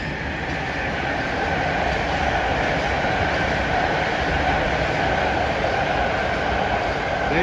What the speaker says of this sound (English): Oh man, it's a legacy fleet.